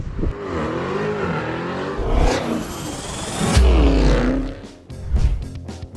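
Toyota Tundra i-Force Max TRD Pro hybrid pickup with a 3.5-liter engine driving off-road, its engine revving and surging in uneven waves, loud and close, with bumps and rattles over rough ground.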